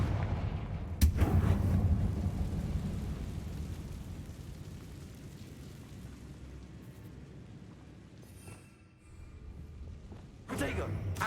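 Fiery Confringo spell blasts erupt in Hogwarts Legacy, a loud rumbling burst at the start that decays into a long crackling, booming roar, with a second sharp blast near the end; no talking.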